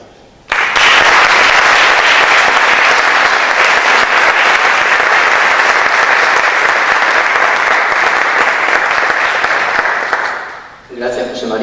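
An audience at a scientific talk on impacts striking the Earth–Moon system breaks into loud, sustained applause. Dense clapping starts abruptly and stays even for about ten seconds, then fades out as a voice begins speaking.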